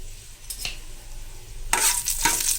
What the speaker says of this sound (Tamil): போட்டு இதை நல்லா வதக்கிடலாம் இப்போது கடுகு பொரிஞ்சிச்சு